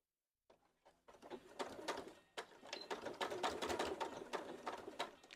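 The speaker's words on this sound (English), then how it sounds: "I'm just going to use a straight stitch." Sewing machine running a straight stitch along a hem on an upcycled garment, a quick, rapid mechanical chatter in short runs with brief pauses, close and fairly quiet, no voices.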